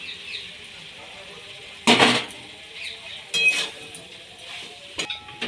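Fried broccoli, potato and carrot pieces are tipped into a cooking pan, giving a few sharp clinks and scrapes of a utensil on metal over a faint background sizzle, with a little speech in between.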